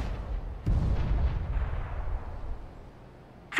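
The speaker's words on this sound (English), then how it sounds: "I'm throwing a grenade." A grenade goes off in a bomb-planting first-person shooter game, a single loud, deep explosion boom that hits sharply after a short pause and then rumbles and fades over a few seconds.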